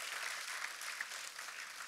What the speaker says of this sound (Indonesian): Katakan amin, tepuk tangan yang meriah buat Tuhan kita.